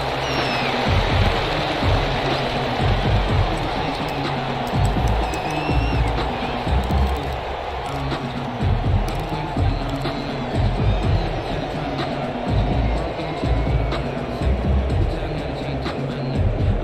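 A large stadium crowd roars steadily at an NFL game, Cleveland Browns at Las Vegas Raiders. The dense cheering noise stays level throughout, with scattered higher shouts and whistles mixed in.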